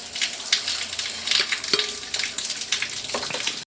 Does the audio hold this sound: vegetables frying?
yes